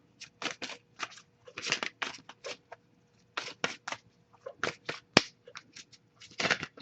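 Tarot cards riffle and slap in quick, irregular bursts, close and soft, with short pauses between flurries and one sharper snap.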